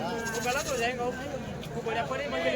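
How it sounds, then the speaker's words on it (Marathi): A goat bleats in wavering, quavering cries close by at a goat market in Dhule, repeated a few times, with voices talking in the background. "कोटामध्ये बकरी आहे"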